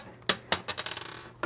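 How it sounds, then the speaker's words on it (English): A small metal tack drops onto a hard surface while an outlet hole is being cut in a kitchen, giving a quick run of bright clinking bounces that fade, then one last tick, close and alone. "of course the tack falls"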